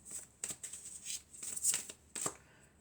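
Tarot cards shuffled and drawn in several quick riffling bursts, close and crisp, separated by brief pauses, with no talk over them.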